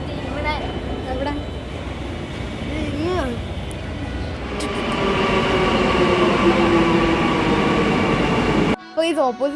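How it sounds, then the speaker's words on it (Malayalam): A Kochi Metro train runs past at a station platform, a loud steady rumble that builds and swells midway, with people talking over it and a brief cut near the end. "അപ്പോൾ ഇത് ഓപ്പോസിറ്റ് സൈഡിലോട്ട് ഒരു ട്രെയിൻ പോകുന്നുണ്ടായിരുന്നു"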